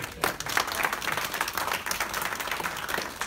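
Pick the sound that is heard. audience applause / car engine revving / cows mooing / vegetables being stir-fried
audience applause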